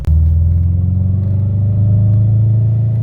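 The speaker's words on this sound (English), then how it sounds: "I'm idling at a stop right now." A 2003 Honda Civic engine idles at a stop with a loud, steady, close low rumble throughout and no talking.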